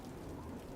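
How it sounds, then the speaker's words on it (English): Soft, steady rain falls in the Mahoyo visual novel, a faint, even patter with no other sounds. "The soft sounds of the rain doubled in volume."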